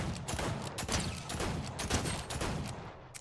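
Rapid bursts of gunfire from a weapon in Fortnite rattle continuously, loud and dense, with fast repeated shots filling the whole stretch.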